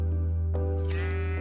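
A single sheep in a video game lets out a loud, close bleat, a steady wavering tone with no talk over it.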